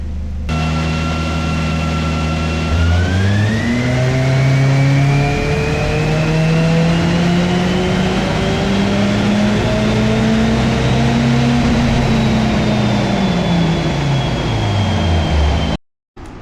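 Tuned car engine at full throttle on a dyno, a loud continuous rev that climbs steeply in pitch, holds near redline, then drops sharply as the run ends.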